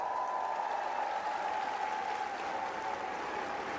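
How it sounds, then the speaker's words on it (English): Applause from a tennis crowd at the Seoul tournament, a steady dense wash of clapping heard from a distance, with a faint high tone running underneath. "네, 응원의 박수 부탁드립니다."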